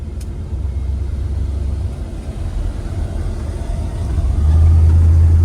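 A 1970 Cadillac Eldorado cruising down the road, its engine giving a steady low rumble that grows heavier toward the end, with continuous road noise and no voices.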